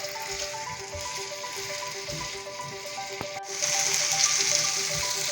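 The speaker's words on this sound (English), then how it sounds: "we have the potatoes on the skillet and they're sizzling nicely" Potatoes sizzle steadily in a skillet, a close, continuous frying hiss that grows a little louder partway through, with no talking.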